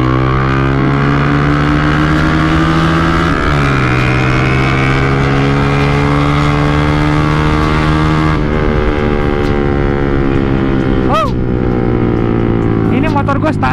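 A standard motorcycle engine on a night ride in Bogor holds a steady loud drone, revving up through rising pitch sweeps and shifting gears, with wind noise and a voice talking over it throughout.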